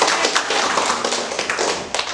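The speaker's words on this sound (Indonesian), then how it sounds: "tepuk tangan buat kita semuanya" Students in a classroom during a civics lesson clap together, a dense patter of quick hand claps that runs steadily for a couple of seconds, fairly close and alone.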